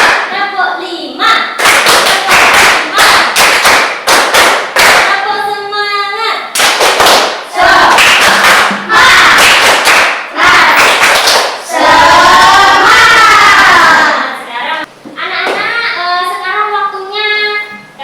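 Students clap rhythm patterns on cue in a classroom lesson, with quick runs of sharp hand claps alternating with a teacher calling out counts, and speech heard throughout.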